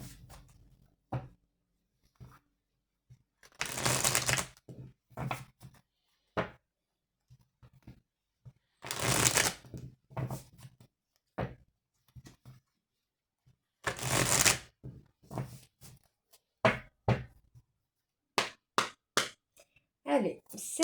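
Oracle cards are shuffled for a tarot-style reading in bursts of soft riffling and slapping, interspersed with taps and quiet handling, with a voice speaking at times between the shuffles.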